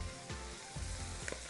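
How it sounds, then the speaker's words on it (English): Steady hiss of greens and onions sautéing in a pot, a continuous broadband sizzle with a few soft stirring thumps, moderately quiet and with no voices. "Can you hear the sizzle?"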